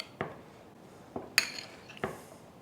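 A spoon stirring olive oil into a mixture of cannellini beans, parsley and avocado in a small bowl, giving four quiet, separate clinks of metal against the bowl in a quiet room.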